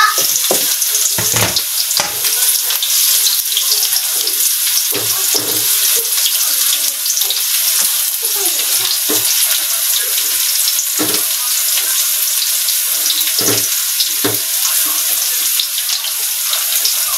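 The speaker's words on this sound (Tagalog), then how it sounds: "At pinapapagolden brown yung ating bawang at sibuyas" Garlic and onion sauté in a pan for escabeche with a loud, close, unbroken sizzle, punctuated by scattered low knocks and stirring bumps throughout.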